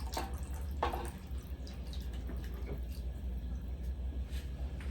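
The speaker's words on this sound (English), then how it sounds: "Let's also add some beef broth." Beef broth is poured into a cooking pot, giving a close, continuous liquid splashing and trickling with a few brief clinks, heard alone without talking.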